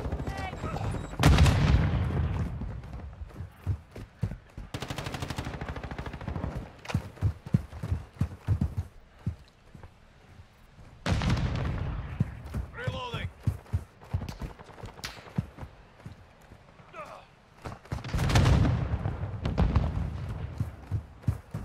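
Stick grenade in PUBG, with several loud booming blasts spaced across the stretch, each followed by a dying rumble, amid rapid clattering gunfire and intermittent talk.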